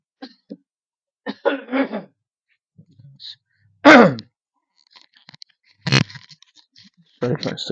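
A person coughs and clears their throat several times in short, irregular bursts, close and fairly loud, with quiet breaths and murmurs between them.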